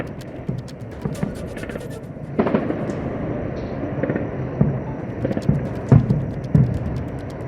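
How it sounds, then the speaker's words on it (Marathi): Bursts of explosions during a drone attack in the Nagrota area of Jammu and Kashmir, a series of sharp cracks and thuds over steady background noise, with several heavier booms toward the end. "नागरोटा परिसरात स्फोटांचे कानठळा बसवणारे आवाज ऐकू आले"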